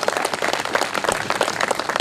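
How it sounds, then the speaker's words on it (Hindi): An audience at an evening get-together claps, a steady dense patter of many hands at moderate distance, continuous and even without voices standing out. "हम चाहते हैं ज़ोरदार तालियां हम सब उनके लिए बजाएं।"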